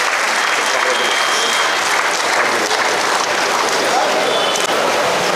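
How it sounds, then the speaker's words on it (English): Dense, loud applause from a Rotary district event audience honouring a couple, continuous clapping that stays full and steady from start to finish. "Let's give this wonderful couple a big round of applause, friends."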